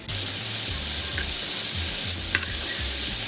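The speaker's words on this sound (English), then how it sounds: "Over medium heat in a large skillet, add your olive oil. Now sear your shrimp" Shrimp searing in olive oil in a large skillet over medium heat, a steady loud sizzle running the whole time with a couple of brief sharp pops near the end, no talking.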